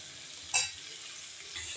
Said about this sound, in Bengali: কষাচ্ছি আলুর সাথে, তেলও ছেড়ে দিয়েছে আলুর সাথে কষানোর জন্য